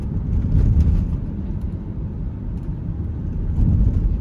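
A BMW E71 X6 accelerates along a road, a deep steady low rumble of engine and tyre roar from inside the cabin, swelling slightly at times, with no talking.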